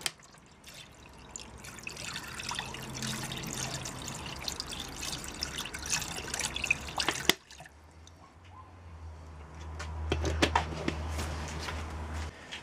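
Water poured into the carburetor of a Peugeot 102 moped, a close steady trickle and drip that briefly stops, then returns with a low gurgle and scattered drips, with no voices.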